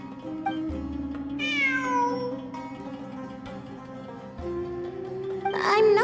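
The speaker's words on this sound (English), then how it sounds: "I'm not hearing things. It really is a cat." A cat meows in the fantasy video game Genshin Impact, with a long rising-and-falling meow and a later sharp, higher cry over a sustained musical drone and soft background score.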